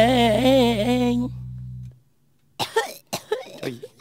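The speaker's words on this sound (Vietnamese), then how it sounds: "Ho à, ho hoài vậy?" Several harsh coughs in quick succession, close and loud, after a sustained sung or musical passage and a brief silence, in a Vietnamese stage comedy.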